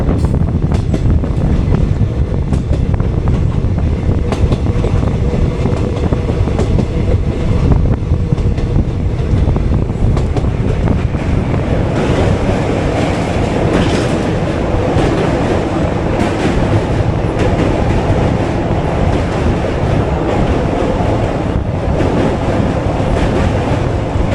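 Malgudi Express, the 20624 service from Bengaluru to Mysuru, runs with a steady, loud rumble and roar from inside the AC chair car, and a louder surge of noise builds midway as the Golgumbaz Express passes alongside.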